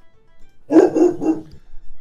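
A dog in Bug Fables gives a quick burst of three or four close, loud barks, alone against near silence.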